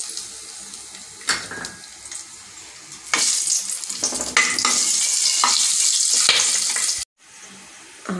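Cinnamon, cloves, cardamom and biryani masala hitting hot oil in a pan, a loud close burst of sizzling and crackling with stirring clatter that cuts out briefly, then resumes.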